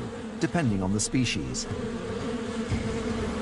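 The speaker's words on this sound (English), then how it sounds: "But soon the bees start to warm up and take to the air." Bees warming up and taking to the air give a steady, close insect buzz that runs throughout, with a brief voice speaking over the start.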